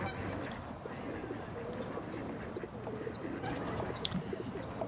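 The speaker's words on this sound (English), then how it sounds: "The Canada goose is the most widely distributed goose in North America." Canada geese honking in a winter wetland of the Sacramento Valley, faint scattered honks and other bird calls over a dense, steady background wash of noise.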